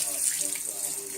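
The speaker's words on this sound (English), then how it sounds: "I'm going to rinse my hands off in some cold water here" Hands are rinsed under cold running tap water while brewing elderberry pomegranate ginger kombucha. A steady, close rush of water splashes continuously without pause.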